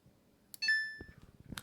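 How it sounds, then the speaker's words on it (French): A single clear electronic beep from the dial of a Samsung WW90T684DLH washing machine, a steady tone lasting about half a second. Soft clicks of the dial turning come before and after it. "Voilà, ce fameux bip-là"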